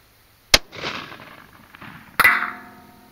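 .243 rifle fired with a 90 grain Sierra GameChanger bullet at long range: one sharp, loud crack, a rolling echo, then a second distant report with a ringing tail.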